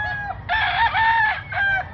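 A rooster crows loudly and close by at a chicken expo and auction in Mantalongon, Cebu, with one short call followed by a long strained crow and a brief final burst.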